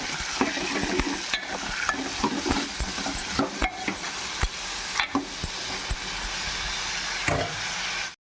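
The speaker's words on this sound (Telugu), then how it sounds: "ఉల్లిపాయ ముక్కలు, టమాటా, పచ్చిమిరపకాయలు వేసాను. కొంచెం ఫ్రై చేసుకున్నాం." Onion pieces, tomato and green chilies fry and sizzle steadily in oil in a pan for a chicken curry, with repeated scraping stir strokes and sharp utensil taps throughout.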